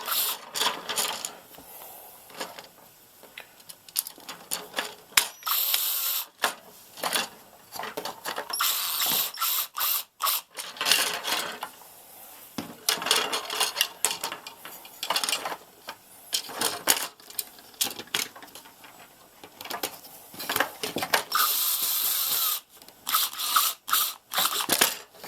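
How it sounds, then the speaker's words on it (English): Screws are driven in by hand while an E-Sky HG-981 HDTV antenna is assembled, giving a long run of close, irregular metallic clicks, ratcheting and rattles that come in bursts with short pauses. "now I'll just try to get the screws started and get them in position."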